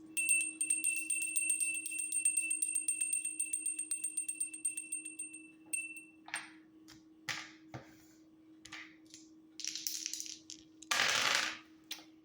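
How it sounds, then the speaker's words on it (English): Dice clatter and tumble in several short bursts after a steady ringing tone, with sharp clicks scattered between, during a tarot card reading. "rolling the dice to see what I need to shuffle a deck to"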